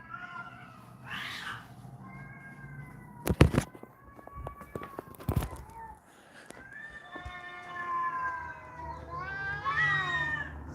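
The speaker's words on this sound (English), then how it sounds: "That's the neighbor's cat" Neighbour's cat meowing and caterwauling outdoors, a few drawn-out wavering cries that grow louder and more insistent toward the end, with brief knocks and a faint voice early on.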